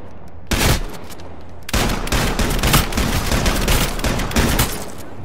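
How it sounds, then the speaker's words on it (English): Combat shotgun blasts in the H1Z1 video game: one loud shot, then a quick string of heavy booming shots that run together near the end, with no talking. "Combat shotgun."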